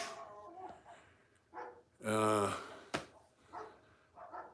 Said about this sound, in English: Yeah, he's a very good dog.